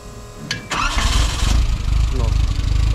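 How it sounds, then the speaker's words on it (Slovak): A Škoda 130 turbo with a modified exhaust cranks briefly with a couple of sharp clicks, then fires and settles into a loud, throbbing, uneven idle nearby. "No a poďme si to teraz naštartovať, že jak to vlastne húči s výfukom a že jak to turbo vlastne odfúkuje."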